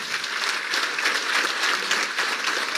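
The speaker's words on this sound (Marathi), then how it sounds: "पुन्हा अशाच एकदा जोरात टाळ्या वाजवायच्या" Applause from the crowd at a state-level community convention in Thane for members being honoured: dense, sustained clapping from many hands, loud and even throughout with no pauses.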